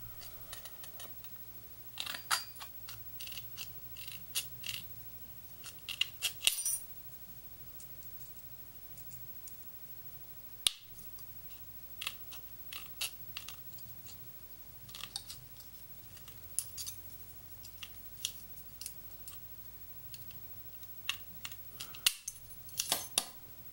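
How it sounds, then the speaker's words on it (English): Wiss aviation snips cut stainless steel corners for earrings, making sharp, irregular clicks and snaps that are faint and spread across a quiet room. "Here I'm using Wiss aviation snips."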